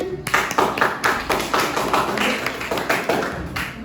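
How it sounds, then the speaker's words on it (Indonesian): A school audience claps before a class drama performance, a dense run of sharp, fairly loud claps lasting several seconds with no talk over it. "Tepuk tangan dulu sebelumnya."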